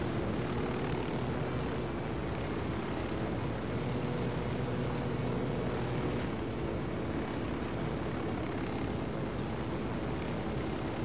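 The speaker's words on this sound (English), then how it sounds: "We'll need that chopper." A helicopter in the video game Tom Clancy's Ghost Recon Wildlands gives off a steady, even drone of engine and rotor that holds the whole way through, fairly quiet and with no speech over it.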